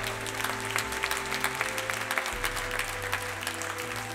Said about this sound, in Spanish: Denle un aplauso al Señor si desea darles